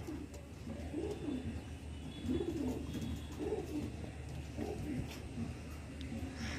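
Female Black Diamond pigeon cooing, a series of soft, low, warbling coos repeated at roughly one-second intervals, fairly faint and close, with low background noise.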